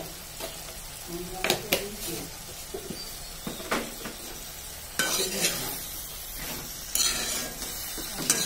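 Drumsticks frying in mustard paste with a little sugar, stirred in a pan: continuous sizzle with repeated scraping and clanking strokes of a utensil against the pan, close and fairly loud.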